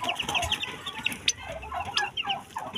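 Chicks and turkey hens on a rooftop, with a busy chorus of close clucks and soft peeping calls overlapping in quick uneven bursts.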